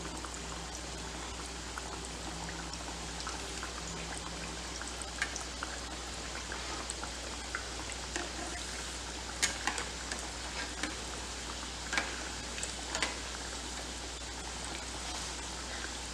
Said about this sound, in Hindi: हम एट अ टाइम 3 डोनट्स इसमें फ्राई करेंगे।